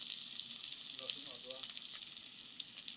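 Onion frying in hot mustard oil for a Bengali lunch dal, giving a steady, close hiss and sizzle with fine crackle throughout and no talk over it.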